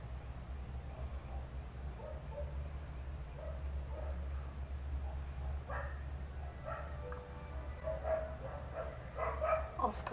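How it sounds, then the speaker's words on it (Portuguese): Several neighborhood dogs bark in the distance at night, intermittent yips and barks over a steady low hum, with a faint voice in the background. "Olha os cachorros do vizinho."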